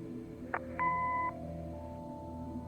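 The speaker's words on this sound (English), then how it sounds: "Leave a message after the beep." A video game answering machine: a brief click followed by a single electronic beep tone lasting about half a second, then a low steady hum continues.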